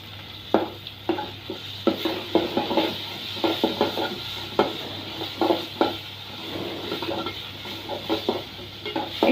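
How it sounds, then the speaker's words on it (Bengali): Carrots and chicken frying in a pan for a Bengali mughlai dish, with a utensil repeatedly scraping and stirring against the metal in an uneven rhythm over a steady low sizzle, close and fairly loud. "গাজর দিয়ে 1 মিনিটের মতন ভেজে নিব।"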